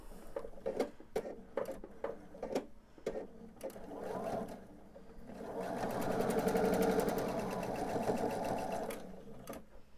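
A sewing machine stitches pillowcase pieces slowly: a run of separate needle clicks first, then a steadier whirring burst in the middle, close up.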